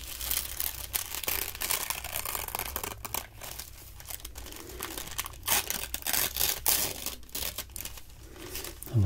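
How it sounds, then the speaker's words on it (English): Sheets of paper tearing and crumpling close up in an ASMR session, with dense bursts of ripping and crinkling that come in uneven waves, now louder, now softer, across the whole stretch and with no talking. "I love the sound of ripping paper."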